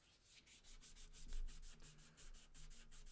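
Sandpaper rubs over wood in steady back-and-forth strokes, a close, rhythmic scratchy hiss repeating about every quarter second with no talking.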